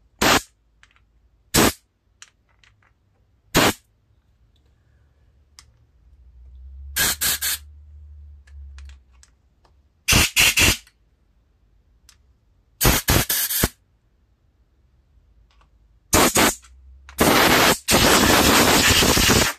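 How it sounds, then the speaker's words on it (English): Short, loud bursts of compressed air from a hose blasting through the carburetor of a Craftsman GT3000's 23 hp Kohler V-twin engine, about eight separate blasts, the last one held for a couple of seconds, with quiet gaps between them. "I'm gonna blow everything out through my hole or with the air hose"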